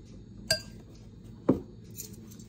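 Two sharp metallic clinks about a second apart as a measuring spoon taps against a mixing bowl while adding baking soda for homemade biscuits, over a quiet room hum.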